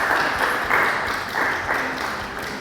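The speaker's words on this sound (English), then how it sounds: "A round of applause" Applause from a school STEM showcase audience for the speed typing test contestants, steady broadband clapping of moderate loudness that swells and eases in waves for a couple of seconds.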